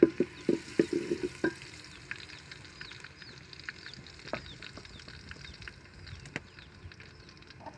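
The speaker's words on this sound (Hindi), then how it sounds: "अब हम इसमें लहसुन का पेस्ट डालेंगे।" Garlic paste hits a hot frying pan while an egg curry is being cooked, giving a soft, fairly faint sizzle with a few sharp stirring taps and scrapes near the start, then a low steady crackle.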